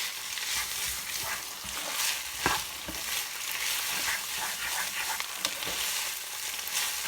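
Spaghetti with ketchup sizzles and fries in a pan over low heat, a constant hiss broken by soft scraping stirs of a utensil, close and continuous with no talking.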